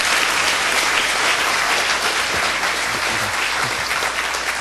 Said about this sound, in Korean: 큰 박수로 부탁드립니다